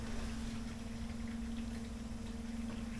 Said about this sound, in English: show you what this pump sounds like when it's kind of running at half flow